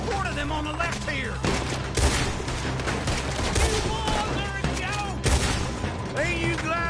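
Rapid gunfire in Red Dead Redemption 2 during a shootout with a horde of enemies, sharp repeated shots cracking over a dense, busy mix of game sound, with voices talking throughout.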